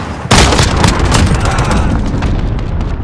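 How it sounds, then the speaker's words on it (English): An enemy cruise missile slams down in Call of Duty: Modern Warfare, a sudden heavy boom followed by a long rolling, crackling blast rumble that fades only slightly over a few seconds. "Enemy cruise missile."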